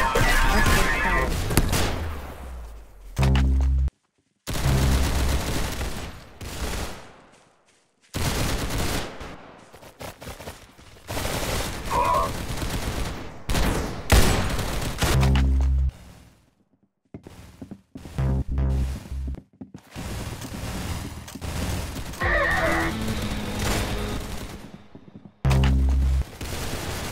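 Rapid gunfire bursts from the Roblox game Arsenal, loud and close, firing in repeated volleys separated by brief silent gaps over the whole stretch.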